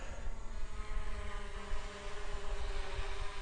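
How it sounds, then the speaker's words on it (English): DJI Mavic Pro drone hovering close overhead, giving a steady, even propeller whine with sharp tonal bands and a low rumble that holds for the whole stretch, with no talk. "the drone is pretty close to being above me"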